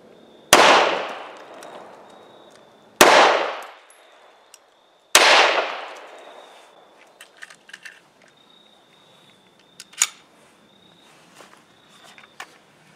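Three unsuppressed control gunshots fired outdoors without a pillow over the muzzle, each a sharp, loud crack with a ringing decay, spaced a couple of seconds apart, then scattered small clicks and faint handling noises.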